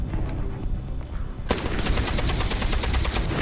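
Rapid automatic gunfire in the video game Beyond Two Souls, a dense sustained burst that starts abruptly and rattles on loud and close after a quieter stretch of game ambience.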